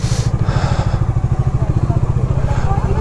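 A motorcycle rides through the old village of Marpha in Nepal, its engine thrumming in a steady, close, mid-pitched pulse throughout, with a brief higher burst at the start.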